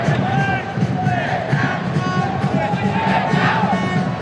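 Crowd at Thong Nhat Stadium roaring and applauding during a football match, a dense, continuous wall of cheering voices with swells of shouting throughout.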